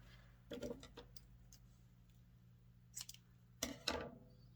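Scissors snip through red yarn during crochet work on a buffalo print throw blanket, a few faint, close, crisp cuts, with a quiet pause between the first snips and the last ones.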